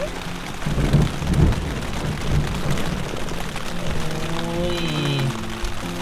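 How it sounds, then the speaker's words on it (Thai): Heavy rain at night on a road trip near Kaeng Krachan, a dense, loud continuous downpour drumming on surfaces, with faint voices and a brief tonal sound near the end. "ตอนนี้ก็ฝนก็ตกค่อนข้างแรงเลยนะครับ"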